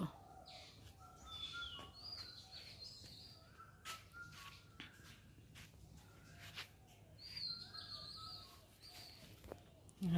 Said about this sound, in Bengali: চারিদিকে পাখির শব্দ